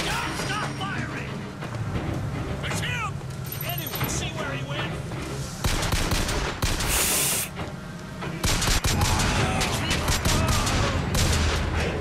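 Rapid gunfire in the video game BioShock Infinite, dense bursts of shots and crashes layered under game music and effects, loud and continuous through the whole stretch, with a player talking over it.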